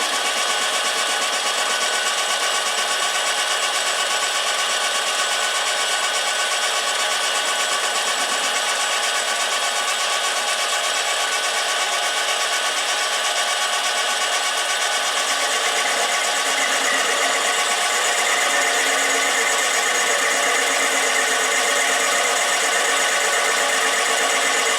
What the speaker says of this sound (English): and then drilling it with the drill